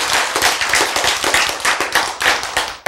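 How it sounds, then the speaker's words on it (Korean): A lecture audience claps together in a dense, steady burst of loud applause lasting a few seconds. "박수."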